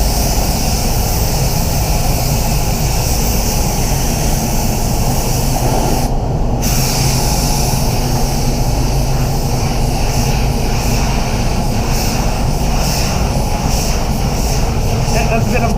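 A DeVilbiss DV1 spray gun lays plastic primer onto a car in a body shop, a loud continuous hiss of air and atomised paint with one brief pause partway through.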